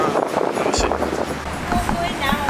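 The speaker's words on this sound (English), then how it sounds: "Oh, it's a little windy." Wind buffets the microphone with low rumbling gusts, loud and close, over a busy outdoor background with faint voices, outside a moped rental in Maui.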